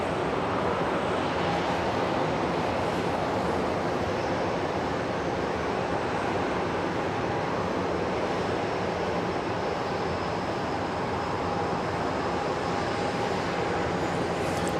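A plane at Dallas Love Field airport gives a steady, broad engine roar that fills the whole stretch evenly, with no clear start or end and no speech over it.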